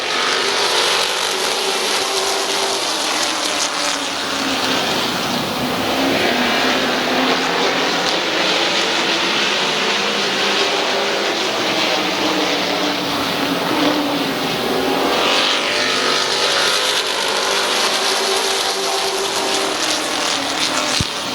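Pack of race cars roaring away at the green flag at Midvale Speedway, a loud sustained engine roar swelling and fading as the cars pass, with a broad, rumbling crowd-like wash throughout.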